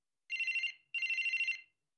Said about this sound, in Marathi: आशा उषांचा फोन असणार तो.